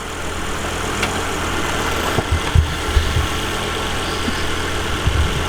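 A 2011 Volvo C30 T5 engine idles steadily nearby, a constant low hum with a few small knocks and bumps mixed in.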